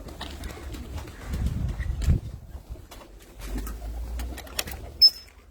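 A pigeon on a rooftop in Muscat, Oman coos softly in a low throaty burble, close by and repeated a couple of times, amid faint ambient clicks and distant sounds.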